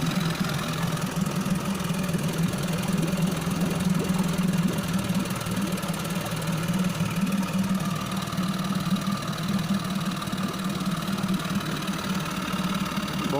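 An outboard motor, freshly reassembled and smoking a little at startup, runs steadily at a constant idle with a throbbing, slightly knocking mechanical drone, close and loud throughout.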